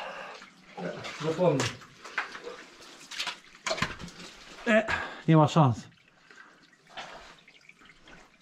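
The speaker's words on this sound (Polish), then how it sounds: "Woda się stamtąd leje w permanencie zalane." Water pours and splashes steadily inside a flooded mine adit, a continuous wash running beneath voices speaking close by in an echoing tunnel.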